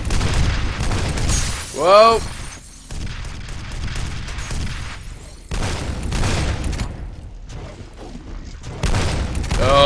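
Enemy gunfire in the video game F.E.A.R. comes as a loud, broadband burst of shots that rises and falls across the clip, mixed with game effects, while someone talks and exclaims over it.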